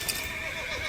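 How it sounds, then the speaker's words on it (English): An enemy horse in the video game The Witcher 3: Wild Hunt gives a short, steady whinny over a continuous game background bed, without talk. "Can I attack you, horse? No, apparently not. You're an enemy horse"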